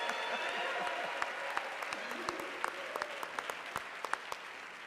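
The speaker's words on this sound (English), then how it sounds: "I assume you're applauding not only for the church" Audience applause fills a church forum crowd after thanks to a Brooklyn Baptist congregation, a steady dense wash of clapping with sharper individual claps popping out near the end, sustained for several seconds.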